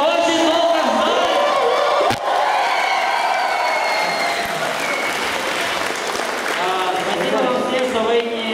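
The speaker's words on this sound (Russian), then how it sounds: "Давайте все похлопаем, мы все очень долго ждали." An audience applauds the opening of the Axis of Power 2011 event, producing dense, sustained clapping and crowd noise that runs the whole way through, with cheers rising and falling and a voice talking over it.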